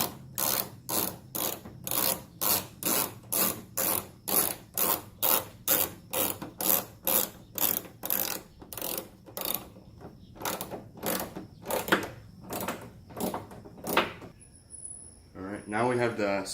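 A hand ratchet clicks in a long, steady series of strokes, tightening 10mm bolts on a car trunk spoiler, close and distinct, with a different mechanical rattle at the very end.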